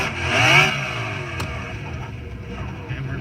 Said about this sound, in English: The car revs for days, dude. That RX-7